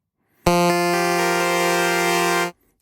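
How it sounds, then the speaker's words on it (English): A single buzzy, nasal narrow-pulse-wave synth tone from the u-He Hive 2 software synthesizer holds steady for about two seconds, loud and alone, then cuts off abruptly. "You see the pulse here is narrow."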